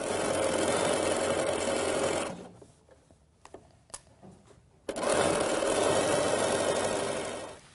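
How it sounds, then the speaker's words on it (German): A sewing machine runs fast along a fabric edge, its loud whirring stitch stopping for a few seconds of near silence with small clicks and handling noises, then starting up again just as strongly. "werden wir nur im selben Abstand wie zuvor an der Kante auf der rechten Seite entlang nähen"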